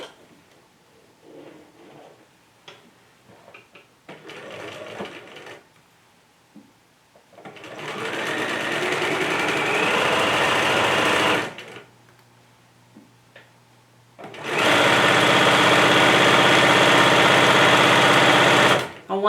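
Sewing machine stitching the seam of a Valentine's heart-shaped bag, running in two sustained bursts of steady whirring with a quiet pause between, close and loud.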